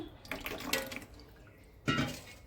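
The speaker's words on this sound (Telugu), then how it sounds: "ఒక హాఫ్ మగ్ వరకు పోస్తానండి గంజి" Thick rice starch (ganji) for cotton sarees is poured into a mug in two short watery bursts, up close, with a quiet pause between them.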